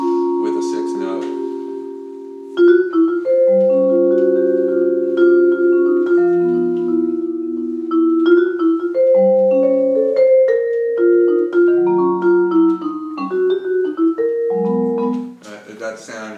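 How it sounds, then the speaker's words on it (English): A series of sustained minor sixth chords and single notes on a keyboard instrument, played slowly and clearly, with short pauses between changes. "It's a minor triad with a 6th note."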